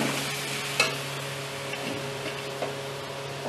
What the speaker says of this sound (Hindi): थोड़ा सा चला लूंगी।